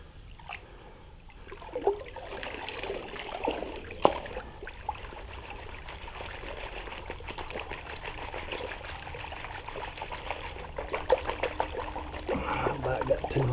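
A gold pan full of creek dirt is swirled in water, giving a steady wash of sloshing, trickling and pouring with occasional small clinks of gravel, close and moderately quiet.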